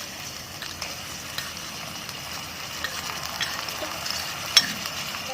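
Onions dropped into hot oil in a miniature pan for a tiny chicken dum biryani, making a faint, steady frying crackle with light scattered clicks and one small sharp tap near the end.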